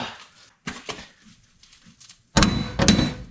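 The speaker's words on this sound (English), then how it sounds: "I'm gonna hammer" Several heavy metallic thunks of a hammer freeing a stuck car part during a ride height change land in an irregular rhythm, close by, with a pair of louder, sharper strikes near the end.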